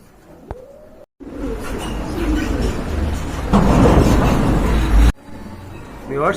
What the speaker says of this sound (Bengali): অনেক বড় সাইজের কবুতর